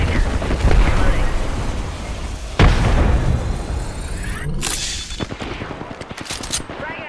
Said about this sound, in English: Throw a frag.